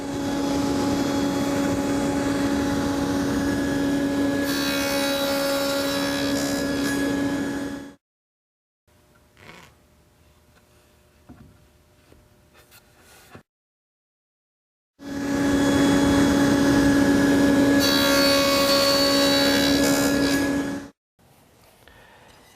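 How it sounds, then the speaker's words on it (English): A dado cutter on a saw makes evenly spaced 3/4 inch cuts across a piece of wood. Each cut is a loud, steady, whining roar lasting several seconds, then stops abruptly, with quiet shop clatter between the two runs. "I've made a series of evenly spaced 3/4 inch dado cuts across the piece"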